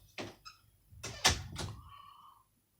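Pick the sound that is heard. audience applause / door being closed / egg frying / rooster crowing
door being closed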